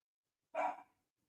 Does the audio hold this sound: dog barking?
yes